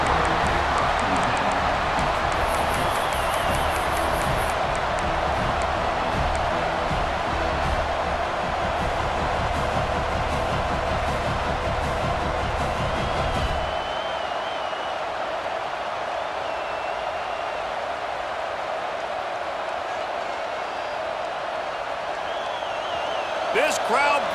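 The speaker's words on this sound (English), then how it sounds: "This crowd bringing the energy and noise early" Stadium crowd at a Penn State versus Florida college football game, a broad continuous roar with a loud surge that drops to a lower steady murmur partway through, under a commentator's voice.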